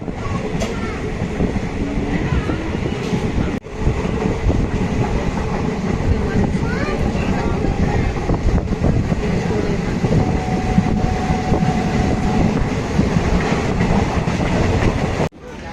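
Train rolling past Sevoke toward Bagrakote station, a loud, steady rumble and rattle of wagons heard from onboard, with a brief dip near the start and faint voices in the background.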